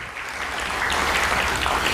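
A church congregation applauds together, a dense, steady wash of clapping that holds at an even level for the whole stretch with no voices over it.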